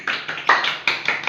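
Classroom applause for a student, several quick bursts of hand claps from a small group, fairly close and moderately loud, with no talking.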